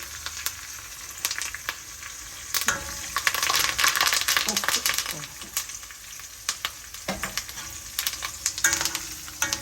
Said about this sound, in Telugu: కరివేపాకు వేసినారు